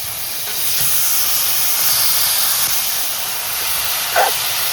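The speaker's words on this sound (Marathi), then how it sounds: "आणि रवणं पण आपल्याला अशी ही परतून घ्यायची मसाल्यात" Wild mushrooms sautéing in homemade red masala give off a loud, steady sizzling hiss that runs throughout, with one brief knock near the end.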